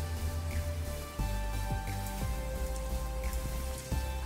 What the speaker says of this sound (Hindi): अभी हम मच्छी फ्राई कर लेते हैं पूरा।